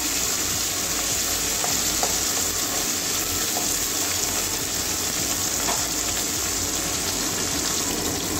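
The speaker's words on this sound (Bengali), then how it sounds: "ভেন্ডিগুলো কাঁচা গন্ধ যাওয়া পর্যন্ত ভেজে নেব।" Okra (bhindi) frying in oil, a dense continuous sizzling hiss close up with faint stirring touches, no voices.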